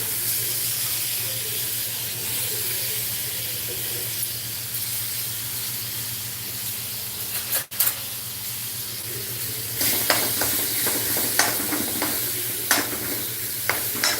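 Chopped tomatoes dropped into hot oil in a frying pan, giving a loud continuous sizzle and hiss, then scraping stirring strokes toward the end, close and without talk.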